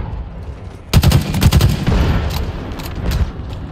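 Rapid automatic gunfire from Halo Infinite Big Team Battle Heavies, a dense burst of close shots in quick succession that tapers into scattered bursts, with no talk over it.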